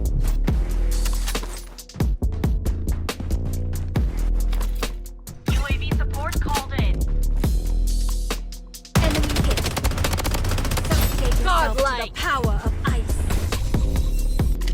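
Rapid assault rifle gunfire in the shooter game Blood Strike, loud close bursts of fast automatic shots with brief pauses between strings, a voice speaking over the firing.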